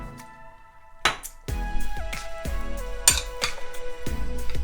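Crab and avocado salad with mayonnaise and lemon juice is mixed in a bowl, with a series of clear ringing clinks and scrapes of a utensil against the dish, close and fairly loud, with no talking.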